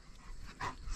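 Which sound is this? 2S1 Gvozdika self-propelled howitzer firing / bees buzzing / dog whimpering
dog whimpering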